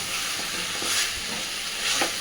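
Chicken is stir-fried for kosha in a pan, giving a continuous close hiss and sizzle with a few soft stirring bumps.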